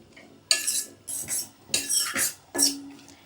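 Dry fruits being fried in ghee in a pan for rasmalai, heard as four or five loud, close scraping strokes of a metal spoon against the pan, with short pauses between them and no talk.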